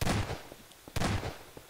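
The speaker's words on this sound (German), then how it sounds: "Weißt du, ich höre Schüsse." Gunfire in the online game Prop Hunt: two sharp, loud shots about a second apart, each with a short noisy tail, with no talking.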